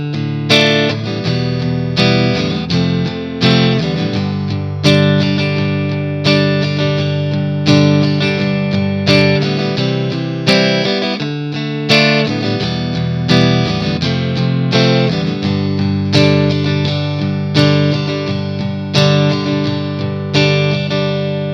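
Electric guitar with effects and distortion plays the verse progression of a song, a steady strummed four-bar pattern repeated twice, loud and close with no talking.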